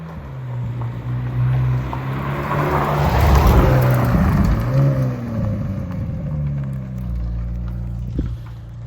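A McLaren 720S approaches and passes close by in a car park, its engine swelling to a loud rush then fading away, over a steady low rumble.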